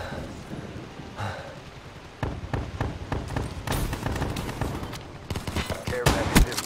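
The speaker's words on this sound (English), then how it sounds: "I hear some shooting." Gunfire in the Call of Duty Black Ops III video game crackles in scattered bursts of rapid shots, some clustered volleys, moderately loud against a busy game soundscape.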